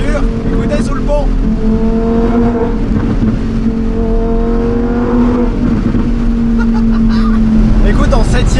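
A Lamborghini Huracan Performante engine drones and revs loudly under a bridge, its steady tone holding and shifting pitch slightly, with an occasional voice underneath.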